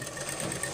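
A sewing machine stitching fabric runs in a steady, dense, even whirr with a fast, constant mechanical rhythm that is close and moderately loud, with no talk.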